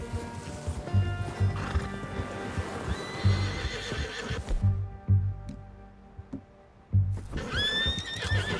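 A horse in Red Dead Redemption 2 whinnies loudly and gallops, with clear repeated neighs over a rhythmic thud of hooves. There is a short lull before a final whinny near the end.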